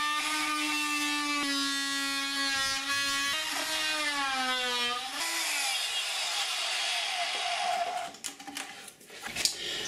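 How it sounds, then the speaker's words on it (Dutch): A power saw on a rebuilt saw table cuts a piece out of a workpiece, a loud whining drone whose pitch sags under load, then drops off as the blade spins down, followed by a few knocks. "Dus alleen het onderste gedeelte zaag ik dan even een stukje uit."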